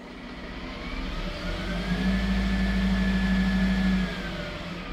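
Manitex crane truck diesel engine raised from idle to a higher steady drone, holding for a few seconds before dropping back down, heard from inside the cab.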